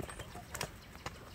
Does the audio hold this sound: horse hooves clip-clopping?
yes